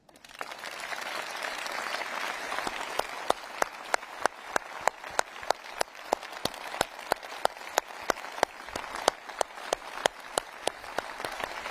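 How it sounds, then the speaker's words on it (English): Conference audience at the Liberal Democrats gathering applauds steadily, a dense wash of many hands clapping with a few sharper, louder claps standing out, sustained throughout without speech. "Please applaud yourselves."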